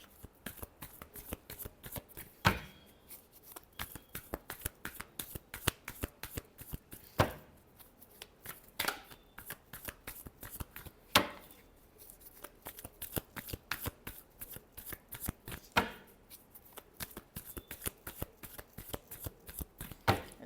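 A deck of tarot cards shuffled by hand, close and crisp, a rapid run of soft card slaps and riffles in uneven bursts with a few louder snaps, no talking.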